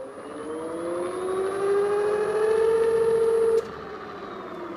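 Electric motor on a Float Hub driven through a VESC controller, a rising tonal whine with harmonics that climbs in pitch for several seconds and then cuts off abruptly.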